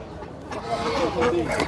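Chickens and roosters, including Leghorns, cluck in short bursts nearby at a flea market in Canton, Texas, with some talking mixed in around them.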